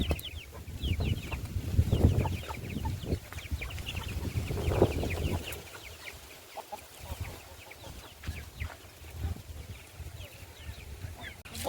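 Chickens let out of their coop in the afternoon cluck and call near and far, with a denser burst of flock noise early on that thins to scattered clucks and chirps over a low outdoor background.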